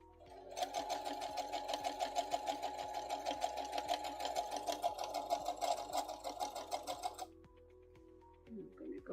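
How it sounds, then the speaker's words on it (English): A sewing machine topstitching around a small fabric luggage tag runs in a fast, steady rhythmic chatter for several seconds up close, then halts and leaves quiet fabric handling. "And then I'm just going to top stitch it all the way around."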